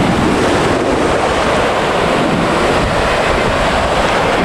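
Ocean surf rolls onto the white sand of Varadero Beach in Cuba, a steady, loud wash of breaking waves mixed with wind buffeting the microphone, continuous throughout with no voices.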